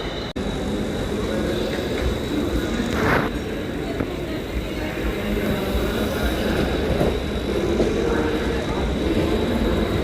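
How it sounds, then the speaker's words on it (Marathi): A Mumbai suburban EMU slow local train bound for Ghatkopar pulls into a platform with a steady rolling rumble and a faint wheel hiss, while indistinct voices murmur in the background. "आपली घाटकोपर लोकल ट्रेन आली."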